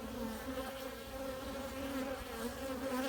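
Honeybees buzzing around their hive, a dense, continuous hum from many insects close up with a steady drone throughout.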